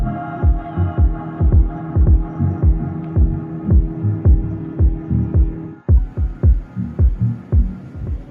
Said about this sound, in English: We're all set for takeoff, saying goodbye to the Las Vegas Strip as we head into the skies on our way to London Gatwick.